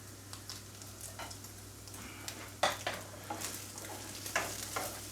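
Food frying in a pan while being stirred during a ham and peas pasta preparation, a low steady sizzle broken by scattered utensil scrapes and clinks against the pan, with a constant low hum in the background.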